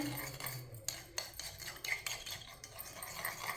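Cracked eggs are whisked briskly in a bowl for sweet vermicelli, quick utensil strokes clicking and scraping against the bowl in an uneven rhythm, close and fairly quiet.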